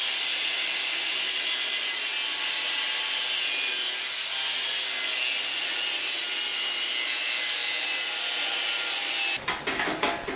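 A blade cuts steadily through wood in a continuous close, bright rasping hiss that runs unbroken for about nine seconds before giving way to a few rough scraping strokes at the end.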